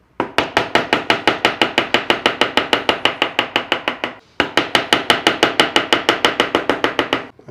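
A thin wooden strip, narrow in both thickness and width, is cut by hand while held upright for a decorative wooden edging, making quick, evenly spaced strokes in two runs split by a short pause. No voices are heard.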